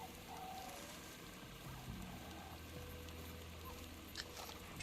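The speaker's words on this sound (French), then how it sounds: "Putain, on voit rien avec cette pluie." Steady rain in the video game Far Cry 2, a soft continuous wash of falling drops with a few faint scattered ticks, heard alone at low level.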